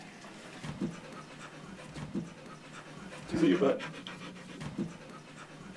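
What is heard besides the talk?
dog panting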